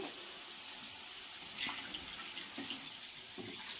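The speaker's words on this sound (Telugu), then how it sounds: "ఇప్పుడైతే మనం వాటర్ పోసుకున్నాము" Steady running water fills a pot for chicken curry, a continuous broadband splash with a few brief louder gushes and clinks partway through.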